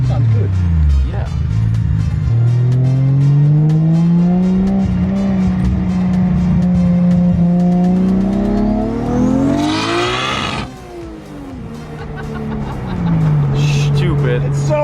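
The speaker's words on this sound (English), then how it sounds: "when we put the exhaust open, give it a little. Sounds good." Lexus IS200 engine with an open exhaust revs up and down in strong rising and falling sweeps, loud and close, briefly peaking around the middle before settling back to a lower drone, with voices talking over it.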